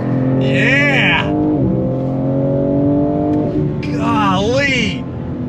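A 2022 BMW M4 Competition with an 8-speed gearbox accelerates hard on throttle, its engine note rising and sweeping through gear changes, heard loud from inside the cabin with a voice exclaiming over it.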